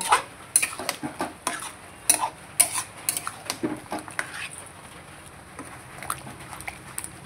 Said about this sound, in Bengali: এখন আমি দেখুন এই মাংসটাকে খুব করে এই জলের মধ্যে দিয়েই খুব সুন্দর করে কষিয়ে নেব